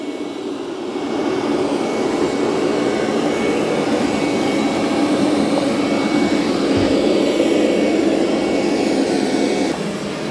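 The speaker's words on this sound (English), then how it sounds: "So it's going to undock itself, then it's going to go around the perimeter of the room." A Roborock Q5+ robot vacuum cleans a room with dust, dog hair and confetti on the floor, giving off a steady, moderately loud whirring drone that runs unbroken for the whole stretch with no talking.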